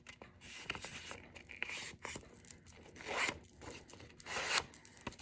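Paper pages being folded together, soft close rustling, scraping and creasing in several short bursts, quiet and without speech.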